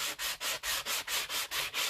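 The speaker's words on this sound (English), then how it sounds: "One of the things is that you can use a sanding block" Rhythmic scratching of a sanding block over two-tone white-core cardstock, about nine quick even strokes in a steady back-and-forth pattern, close and fairly quiet with no voices.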